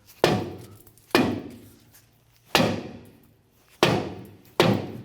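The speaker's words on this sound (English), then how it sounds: "we're going to go ahead and use our dead blow hammer" Dead blow hammer whacking a stuck rear brake drum on a 1993-1997 Ford Ranger, five heavy, dull thuds spaced irregularly about a second apart, each with a short ringing decay, close and loud.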